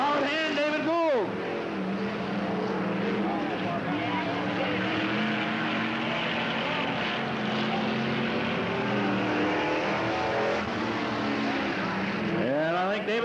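Stock cars racing around the Riverside Speedway dirt track, a dense roar of engines with passing whines sweeping by near the start and end, under a race announcer's voice.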